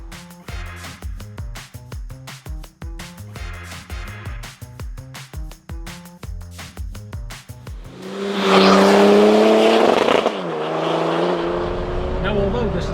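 A BMW E92 330d diesel coupe drives, a rhythmic pulsing engine note for several seconds before it swells into a loud roaring rush with a rising tonal whine, then eases to a steadier drone.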